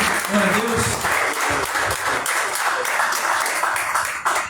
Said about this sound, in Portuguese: Então dê uma salva de palmas para Jesus, que Ele é maravilhoso.